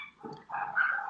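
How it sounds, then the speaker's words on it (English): Dogs sound close by, with a short bark-like yelp and then a longer whining, growly vocalisation, heard alone with no talk. "now we have a lot of dogs on the scene"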